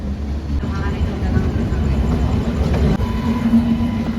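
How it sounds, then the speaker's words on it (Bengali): Steady low rumble of a train departing Santragachi Junction station, a continuous mechanical drone with faint rattles and a few voices underneath. "ট্রেন এখন ছেড়ে বেরোলো সাঁতরাগাছি জংশন স্টেশন"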